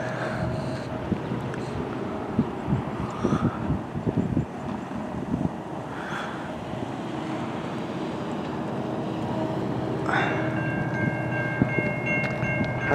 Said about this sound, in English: here comes a CN eastbound train at CSS